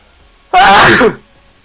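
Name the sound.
sneeze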